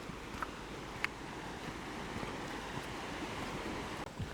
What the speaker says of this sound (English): I can still hear the river